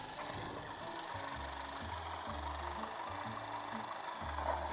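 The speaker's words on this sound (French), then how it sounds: "Vous avez vraiment le fonctionnement d'un moteur. Je vais le faire tourner." A home-built working model four-cylinder engine running, its firing making a quiet, steady, rhythmic chugging pulse at close range with a faint hiss behind it.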